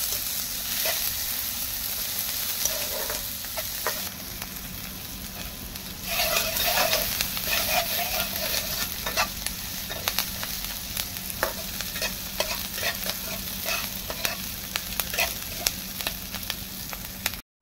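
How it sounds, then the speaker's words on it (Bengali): Chopped capsicum, onion and ginger sizzle steadily in a hot pan while a spatula scrapes and stirs them in repeated clicks and scrapes, a continuous close frying hiss with no voices. "সবগুলো এবার খুব ভালোভাবে ভেজে নেব।"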